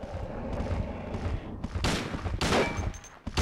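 Gunshots in Silent Hill 2, played on hard difficulty: a few sharp, loud blasts ring out against a murky, droning background, spaced irregularly over a few seconds with no talking.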